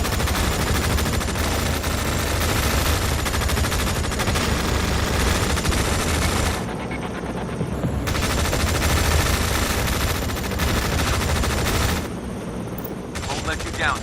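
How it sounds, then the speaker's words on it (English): Heavy, continuous automatic gunfire from military units in the war game EndWar, dense rattling bursts with booming impacts that briefly thin out twice, loud throughout with radio-style voices mixed in. "You're opening fire at hostile."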